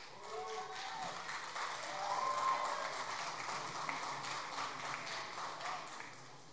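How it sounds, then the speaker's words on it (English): Audience applause at a school's annual sports awards ceremony, a moderate, distant-sounding patter of clapping that holds steady, with a brief voice or tone audible early on. "A huge round of applause."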